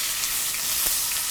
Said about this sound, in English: you always want to listen for the sizzle